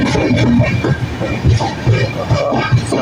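A train rumbles along the rails close by, with a steady low roar and a rhythmic clatter of wheels over the track joints.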